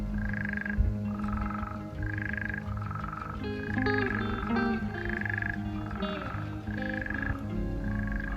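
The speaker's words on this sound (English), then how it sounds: "they were spadefoot toads in the middle of their breeding season" Spadefoot toads calling in breeding season, a steady chorus of repeated buzzing trills pulsing about once a second, mid-distance and continuous over a low background hum.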